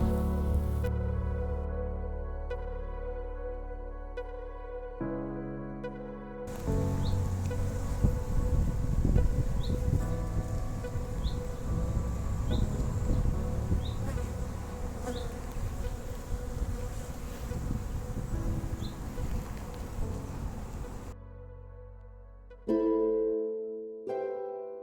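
Honeybees at a beekeeper's hives in Zeeland drone in a dense, continuous buzz, close and fairly loud, with individual insects whirring past amid soft music.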